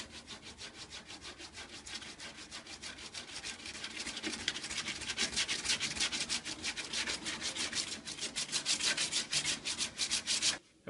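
Hand sanding of body filler on a truck cab corner repair, a rapid rhythmic back-and-forth rasping of abrasive strokes, close and steady for about ten seconds, growing slightly stronger toward the end.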